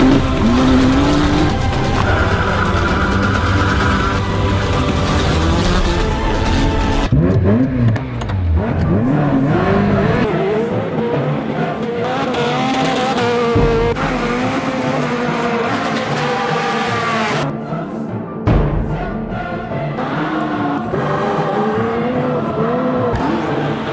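Supercars such as a Ferrari F40 GT and a Jaguar XJ220 doing handbrake turns, engines revving hard with rising and falling pitch and bursts of tire squeal, loud and close, with abrupt cuts between passes.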